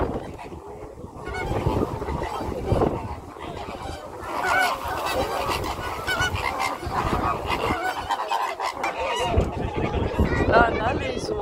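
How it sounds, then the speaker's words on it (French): A crowd of geese at a safari park honks continuously, loud and close, a dense overlapping chorus of calls with people talking under them. "On a les oies là en même temps."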